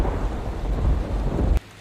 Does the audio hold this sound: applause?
no